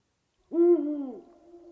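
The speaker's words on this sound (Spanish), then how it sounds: "en las noches de invierno escucharemos en los roquedos a los búhos reales diciendo bu" A Eurasian eagle-owl calls from rocky crags on a winter night, giving a single deep, close hoot that falls slightly in pitch and fades, heard alone against silence.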